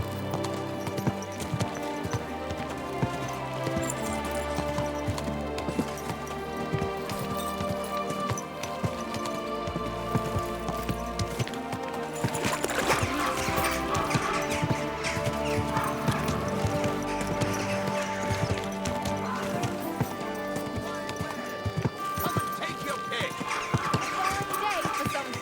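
Horse hooves clopping in the medieval video game Kingdom Come: Deliverance 2, a steady rhythmic gait under background music throughout, with a voice speaking over it.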